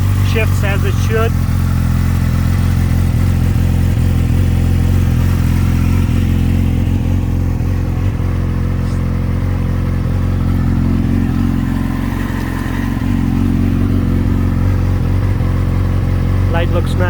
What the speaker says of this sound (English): Healthy motor shifts as it should.